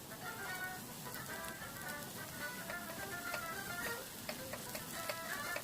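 Takoyaki batter sizzling and frying steadily in a takoyaki pan, a continuous crackle with light tapping and clicking as the balls are turned.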